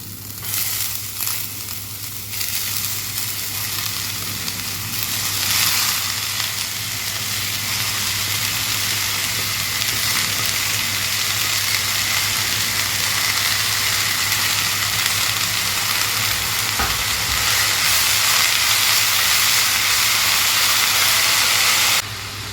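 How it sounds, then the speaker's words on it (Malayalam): Frozen spring onion sautés in a hot pan, giving a loud, steady hiss and sizzle that holds unbroken from start to finish. "സ്പ്രിംഗ് ഓണിയൻ ചേർത്ത് കഴിഞ്ഞതിന് ശേഷം നമുക്കിത് കുറച്ച് ഒന്ന് സോട്ട് ചെയ്തെടുക്കണം."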